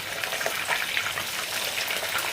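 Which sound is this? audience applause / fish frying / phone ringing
fish frying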